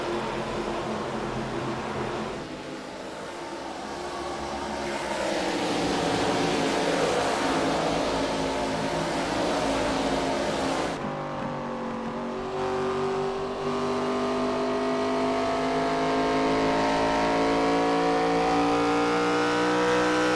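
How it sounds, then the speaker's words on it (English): ARCA Series race cars racing at Phoenix Raceway, a continuous roar of engines with passing whines sweeping up and down in pitch, loud and steady throughout. "Oh, the sound of those cars."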